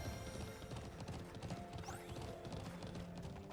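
Horse hooves clip-clop steadily in the Alicia Online video game, a continuous rapid rhythm of many hoof strikes under a busy, dense game soundscape with a brief whinny-like sweep partway through.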